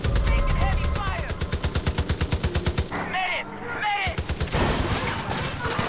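Automatic gunfire rattles in rapid, loud bursts during a Far Cry 5 firefight, with a brief lull before more shots and overlapping game sounds.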